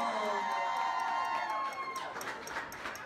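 A crowd cheers and whoops, loud at first and then thinning into scattered shouts and claps by the end; no one speaks.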